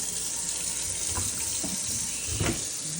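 Water runs from a kitchen sink faucet in a house with stone countertops, a steady close hiss of flow with a few soft splashes and knocks underneath.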